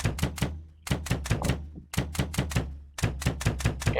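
Sharp mechanical clicks from winding the magazine of a Hi-Capa airsoft pistol in a tactical airsoft training simulator game, coming in quick bursts of four or five with short pauses between and no voices.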